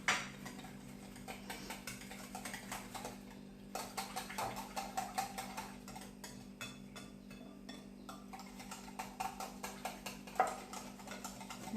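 Dry cumin, coriander, chaat masala and salt are mixed together, making a steady run of light clinks and ticks like a spoon against a bowl, soft and close with no talking.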